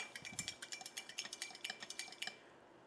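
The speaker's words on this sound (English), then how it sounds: "Give it a little stir." A spoon stirring a Valentino cocktail with Campari in a glass, a quick run of bright metallic clinks and taps that stops after a couple of seconds, with no talking.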